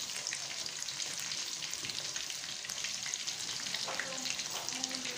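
Chicken fries in a pan with a steady, dense sizzle and crackle close up, with faint occasional clinks of stirring.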